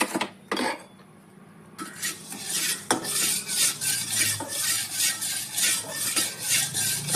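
Coriander seeds sizzle and rattle in a hot pan while a spoon scrapes and stirs them in steady, repeated strokes, a clinking start giving way to continuous close-up dry roasting.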